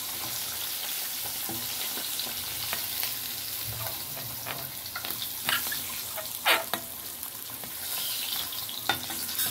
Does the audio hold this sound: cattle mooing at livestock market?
no